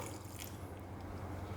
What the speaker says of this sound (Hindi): इसके अंदर थोड़ा और पानी ऐड करेंगे